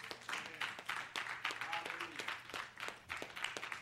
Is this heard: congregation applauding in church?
yes